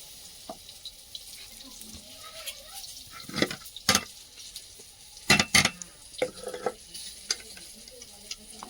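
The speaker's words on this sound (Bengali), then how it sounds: "বেগুন এক খোলা ভেজে তুলে নিয়েছি" Eggplant slices frying in a home kitchen pan, a soft sizzle with scattered clatters and scrapes of a spatula, several louder knocks clustered near the middle, quiet between them.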